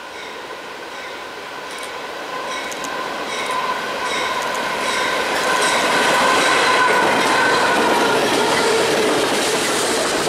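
A Norfolk Southern freight led by a single GE AC44C6M locomotive roars past at track speed on a double mainline, with a loud continuous rumble of wheels and rail clatter that builds and holds steady.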